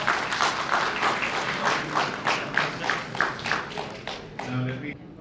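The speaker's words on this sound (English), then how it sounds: "as a sign of your consent, those who are here, you will clap your hands" Guests at an engagement ceremony clap their hands together as a sign of consent, with a crowd's rhythmic, fairly loud clapping that thins out near the end as a voice begins.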